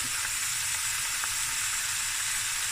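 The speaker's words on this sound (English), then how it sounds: "Let this fry a bit." Onions and garlic fry in a pot at the start of a Cape Malay tomato bredie, giving a constant, even sizzle that stays close and steady throughout.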